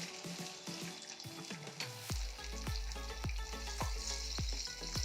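Semolina potato cutlets (tikkis) sizzle steadily in hot oil in a pan, with a run of sharp clinks and taps from a utensil over the continuous close frying crackle.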